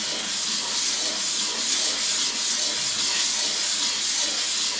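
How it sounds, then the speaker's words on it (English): A stone being lapped flat on a 10- or 12-inch diamond plate gives a steady, close, continuous gritty rasping hiss that holds at an even level for about five seconds with no talking. "12 or 10 or something inch diamond plate, because it's reasonably flat, so I can flatten my stone. Just basic lapping operation."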